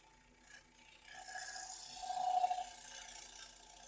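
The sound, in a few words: shear cut on a wooden bowl with a turning tool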